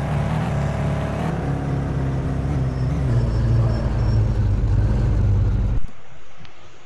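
A car driving along a road in a mobile racing game: a steady, loud engine drone with a low rumble that builds toward the end, then cuts off abruptly.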